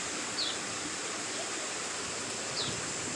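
Running waterfalls in scenic outdoor surroundings with about a 20-mile-an-hour wind make a steady rushing hiss that holds level throughout, with a couple of faint high chirps and no talking.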